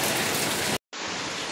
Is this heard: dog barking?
no